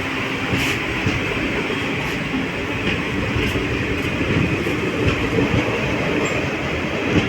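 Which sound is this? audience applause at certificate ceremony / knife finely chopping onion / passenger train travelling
passenger train travelling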